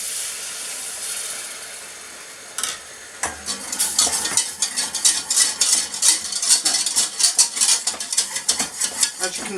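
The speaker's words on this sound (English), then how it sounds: "first I'm going to add a ladle full of this broth out of this pan." Broth ladled into a hot pan: a quiet hiss first, then a sudden sizzle and steady rhythmic stirring with utensil scrapes, close and loud.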